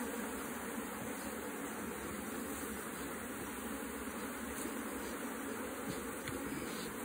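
A honey bee swarm at a hive during a honey super inspection, giving off a steady, dense buzzing hum that stays at an even level throughout, with no talking.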